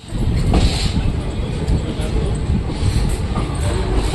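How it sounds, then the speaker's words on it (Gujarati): Passenger train pulling slowly out of Junagadh station, heard as a loud, steady low rumble of wheels and carriage noise from on board. Rolling surges and faint squeals sit in the rumble. "આપણી ટ્રેન ધીમે ધીમે ચાલતી થઈ ગઈ છે મિત્રો"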